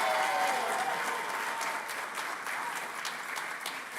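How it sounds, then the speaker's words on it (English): A graduation audience at an Allied Health and Social Work ceremony breaks into loud, sustained applause and cheering that fills the hall steadily throughout. "a big cheer for the graduating class of 2026"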